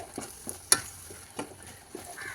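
Noodles being stirred and tossed in a frying pan at home, with soft scraping and a few sharp clinks of a utensil against the pan over a faint sizzle, close by and without talk.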